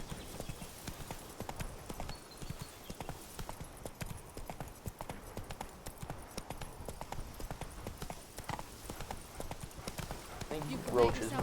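Roach the horse trots in the video game The Witcher 3: Blood and Wine, with a steady, rhythmic clip-clop of hooves running throughout and talking over it.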